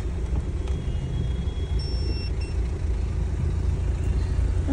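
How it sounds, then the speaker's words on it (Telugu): Road traffic passes around midnight outside a crowded cinema after a late show, a low, steady rumble of car engines with a faint high-pitched tone briefly rising above it. "ట్రాఫిక్ చూడండి"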